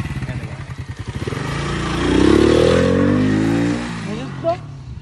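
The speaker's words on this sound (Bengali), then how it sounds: "ফার্স্ট টাইম কিক মারছে, nice kick, nice kick, start ডান।" A motorcycle is kick-started: a few chugging kicks, then the engine catches and revs up loudly before easing to a rough idle, with voices nearby.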